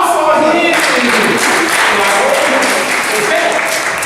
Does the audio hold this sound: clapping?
yes